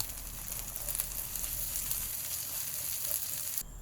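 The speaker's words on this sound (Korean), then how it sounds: "기름을 달군 프라이팬에 스크램블을 만들어줄 겁니다" Steady, loud sizzling of eggs being scrambled in a hot oiled frying pan, a constant crackling hiss close by with no talking.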